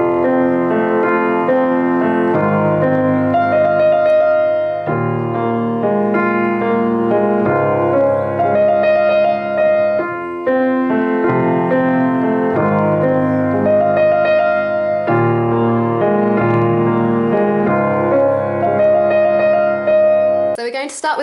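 A grand piano plays the intro of a song, full repeated chords and a bright right-hand figure in steady bars, loud and continuous without talk.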